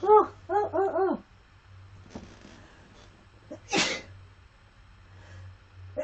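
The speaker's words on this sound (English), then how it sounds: "So anyway, I feel a sneeze coming on." A single sharp sneeze bursts out close and loud about two-thirds of the way through, following earlier voiced vocal sounds and quiet breathing, with a steady low hum underneath.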